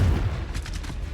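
Confringo fire spell blasts in Hogwarts Legacy, a short low booming impact followed by crackling bursts, loud and close with no talk.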